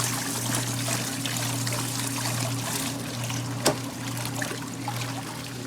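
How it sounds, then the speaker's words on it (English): Water pours steadily at full pressure into a tank while an RV system is unwinterized, a continuous close trickling rush over a low steady hum, with one brief clunk partway through. "Here we are pushing plenty of water through here."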